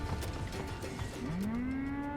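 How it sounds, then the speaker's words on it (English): A Gekko cow-leg enemy in the Metal Gear Rising video game lets out a deep, drawn-out moo that rises and holds near the end, over a busy background of game noise and mechanical clatter. "these tiptoeing, mooing boxes quite literally kicked my toned cyborg tush"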